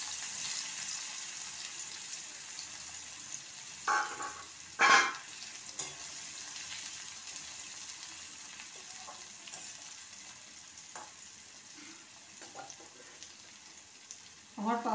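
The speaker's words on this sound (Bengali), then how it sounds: "আগে পাবদা মাছটাকে আমি ভেজে নেব।" Pabda fish and onion fry in oil in a home kitchen, a soft continuous sizzle with a few louder clatters of stirring and pan contact scattered through.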